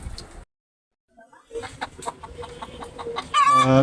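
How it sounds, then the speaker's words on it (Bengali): Chickens cluck in a rooftop coop, a few short calls near the microphone after a brief silence, with farmyard noise and a louder burst at the end. "এখানে আরেকটা মুরগির ঘর আছে এই পাশে আমি আপনাদেরকে এখন দেখাবো এখানকার মুরগিগুলা"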